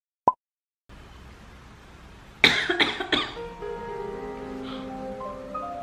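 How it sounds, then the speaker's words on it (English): A person coughs three or four times in a quick burst, loud and close, after a brief sharp click and a stretch of quiet, then a soft tonal hum lingers. "why I am coughing?"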